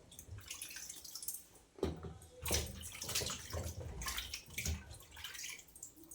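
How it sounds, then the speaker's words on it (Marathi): A milk packet being rinsed under clean running water, with splashing and dripping in a sink, close but fairly quiet and with no voices. "पहिले स्वच्छ पाण्याने धुते, तिला पुसते"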